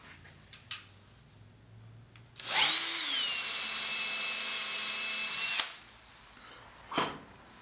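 A power drill whines steadily into a wooden piano key rail block for about three seconds, loud and close, with a few small knocks and taps before and after.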